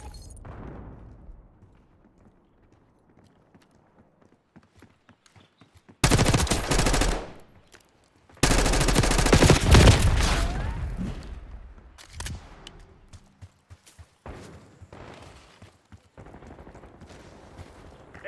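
Bursts of rapid automatic gunfire in a Call of Duty Black Ops 6 multiplayer match, two loud sustained volleys close by, followed by scattered lighter shots and game announcer lines around them.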